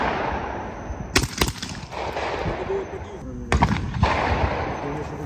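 A 12-gauge shotgun fitted with a muzzle brake fires outdoors: several sharp, loud blasts in two close bursts, each cracking out and echoing briefly over a low background of wind and movement.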